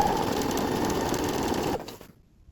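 A sewing machine runs steadily, stitching a satin head scarf, its fast even whir continuing for nearly two seconds before winding down and stopping.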